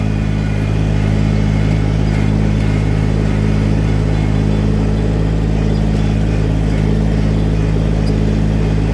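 A Kubota tractor engine runs at a steady idle close by, a continuous low rumble with no change in pace and no talk.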